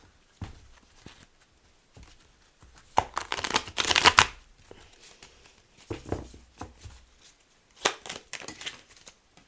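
Tarot cards being shuffled by hand, with several bursts of riffling and slapping separated by quiet gaps. The loudest flurry comes in the middle, and no one speaks.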